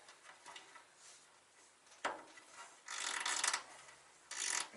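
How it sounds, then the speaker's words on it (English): A tight rubber seal is forced into place on a VW MK2 Golf GTI, heard as quiet scraping and rubbing strains with a sharper squeak-like burst or two. The sounds are close and faint, with no speech. "That's how much force I got to put in to get this seal to go on"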